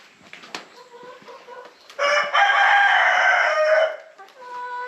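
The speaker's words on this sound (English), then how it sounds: "that rooster is loud." A rooster crows loudly and close by, one long strained call, with scattered clucks and soft shuffling before and after.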